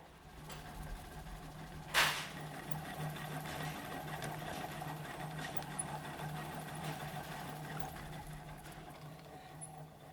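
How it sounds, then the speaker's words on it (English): A hand-turned bobbin winder spins at a textile workshop, giving a steady, close mechanical whir with a faint rhythmic rattle and one sharp click early on. "I'll leave you with the sound of the hand-turned bobbin winder that Kim kindly showed me"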